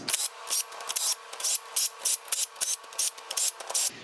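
Cam caps being removed from a Subaru engine cylinder head, heard as a rapid series of about a dozen short, close metallic scraping and clicking bursts in an even rhythm.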